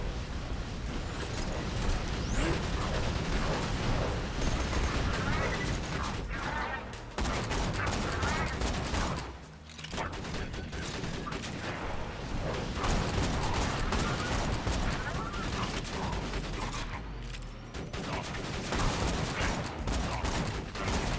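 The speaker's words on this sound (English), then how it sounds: "Turret's still doing work there." Axton's turret in Borderlands 2 keeps up sustained automatic gunfire, a dense, loud, continuous rattle mixed with mechanical clanks and other battle noise. It barely pauses for the full twenty seconds.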